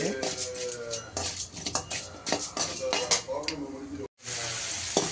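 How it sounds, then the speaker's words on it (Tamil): Onions sauté in a pan toward golden brown, with a frying sizzle and frequent clinks of a ladle against the pan, while someone talks over the cooking. "இது நல்லா வதக்கணும் இந்த வெங்காயம் பொன்னிறமாக ஆகணும் அது வரைக்கும் வதக்கணும்"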